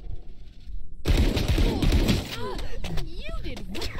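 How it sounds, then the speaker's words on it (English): A swarm grenade goes off in a tactical shooter game, a burst of loud crackling explosions after a quiet second, followed by sweeping whistling tones and scattered pops. "Swarm grenade out."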